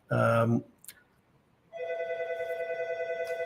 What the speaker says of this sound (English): It sounds like it's the red phone from the 70s ringing once